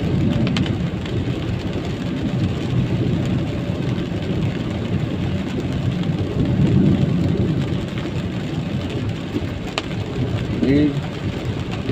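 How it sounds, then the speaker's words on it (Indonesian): Early morning rain falls on Jalan Veteran, a city street in Palembang, as a dense steady hiss with low rumbling traffic beneath and a few brief louder swells, continuous throughout. "lagi turun hujan pagi-pagi."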